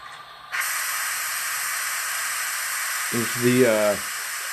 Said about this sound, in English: That's the steam safety valve blow off right there.